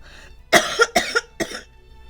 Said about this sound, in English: I'm over here coughing to death.